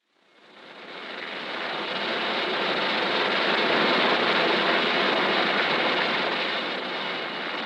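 A Westland Wessex 5 helicopter of the Royal Navy's 848 Squadron flying, heard as a dense, loud turbine and rotor roar that swells in over the first second and then holds steady.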